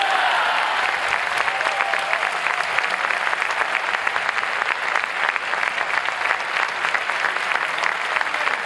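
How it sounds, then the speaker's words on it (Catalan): Strong, sustained applause from a crowd at a Junts political rally in Elna, opening the pre-campaign for the 12 May Catalan election; dense clapping runs steadily throughout at high volume, with no voices rising above it. "Fort aplaudiment."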